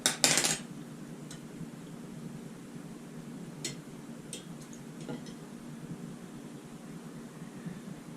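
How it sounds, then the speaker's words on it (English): Spoon clatters against a bowl of brisket injection marinade as it is stirred, then a few faint clicks and taps follow as the meat injector is refilled, close and quiet over a steady background hiss. "So let me stir this again and fill my injector back up."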